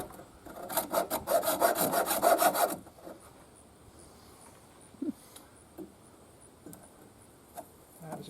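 A saw rasps rapidly back and forth through plumbing pipe in a loud burst of strokes lasting a couple of seconds, followed by quiet room tone with a few faint knocks and taps.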